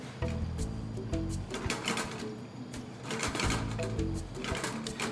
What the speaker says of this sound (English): I'm going to go ahead and keep on moving these around to make sure that they brown up evenly